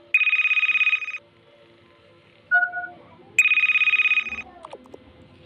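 A cellphone ringtone in the Toca family life game rings in two loud, steady electronic bursts about a second each, with a short two-tone chime between them and brief faint sounds after.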